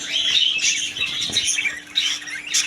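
Lovebirds in an aviary chatter with shrill chirps and squawks, several birds calling at once nearby, with a brief flutter of wings and a faint steady hum underneath.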